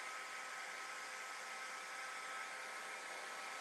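A heat gun blows steadily on WoodUbend decorative trim to soften it for shaping, giving an even, unbroken hiss and whoosh of hot air at moderate level with no voices.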